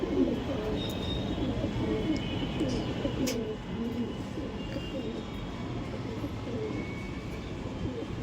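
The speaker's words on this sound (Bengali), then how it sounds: "এই ছিল নর পায়রাটা" A male pigeon coos in low, rolling phrases that repeat steadily against a constant background rumble, fairly faint and close.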